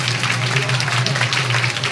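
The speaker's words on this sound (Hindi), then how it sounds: "आए हम खुदावंद के जलाल के लिए जोरदार तालियां बजाएं" A congregation at a live Palm Sunday worship service claps loudly and continuously, a dense, even burst of applause filling the whole short moment.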